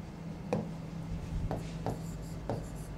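Quiet, short scratching strokes come from a teacher writing on a board during a biology lesson, several separate marks spaced about half a second apart, with no talking.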